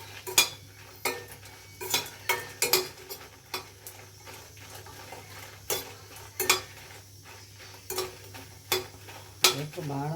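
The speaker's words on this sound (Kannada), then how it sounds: "ಚೆನ್ನಾಗಿ ಹುರ್ಕೊಳ್ಬೇಕು." Horse gram roasts in a dry pan while a spoon stirs it, making repeated close scraping and rattling strokes in an uneven rhythm over a low steady hum.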